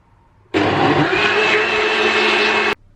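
A blender whirs loudly mixing a strawberry milkshake, starting suddenly, holding a steady high-pitched motor drone for about two seconds, then stopping abruptly into near quiet.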